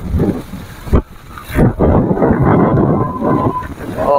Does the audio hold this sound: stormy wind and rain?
yes